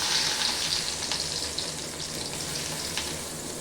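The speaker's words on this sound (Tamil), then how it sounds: "சின்ன வெங்காயம் வதங்கட்டும்" Small shallot onions frying in hot oil, a soft, even sizzle with a light crackle, close but fairly quiet and continuous throughout, with no voices.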